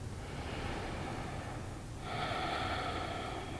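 Someone holding the yoga tree pose breathes softly through the nose, drawing in a long breath and then a stronger, airier exhale. The sound is quiet and close, with no talking.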